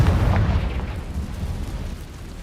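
A Confringo fire spell explodes in the Hogwarts Legacy game, with a deep booming blast at the start that decays into a rumbling tail, heard alone.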